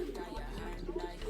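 Pigeons coo softly during free flight, low cooing murmurs repeating under nearby people talking, with a steady low hum in the background.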